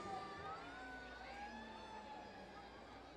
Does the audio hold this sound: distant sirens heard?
yes